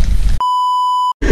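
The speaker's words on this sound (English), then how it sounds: "Guys, smoke alarm, smoke alarm." A smoke alarm sounds a single loud, piercing electronic beep for under a second between bursts of background noise.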